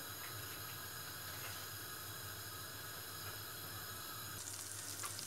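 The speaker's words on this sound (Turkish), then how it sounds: "Evet şöyle güzelce yağımızın erimesini sağlıyorum." Butter melts in a pan over the heat for a milky flour halva, making a soft, continuous sizzling hiss that stays fairly quiet and unbroken, with no one speaking.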